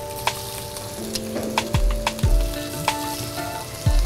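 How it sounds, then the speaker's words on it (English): Shrimp seared briefly in a hot pan, a low bubbling sizzle with sharp clacks and thumps of the shrimp and utensils hitting the pan at irregular intervals. "What we're gonna try to do here is just sear this shrimp slightly on both sides."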